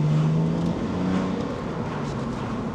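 Engine of a BMW Z4 roadster on the move, a steady droning hum with a brief rising note early on, fairly close and continuous with no talking.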